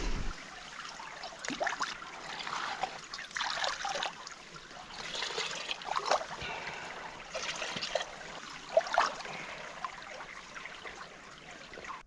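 Water trickles and gurgles into a hydration bladder outdoors in Lapland, a faint, uneven dribble that continues for several seconds without speech.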